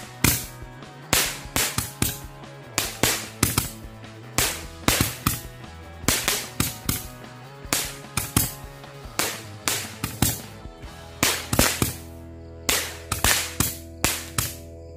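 Firecrackers set off on the twentieth day of Ramadan burst in a rapid, irregular string of sharp, loud bangs and crackles, dozens of pops over fifteen seconds with brief lulls between volleys.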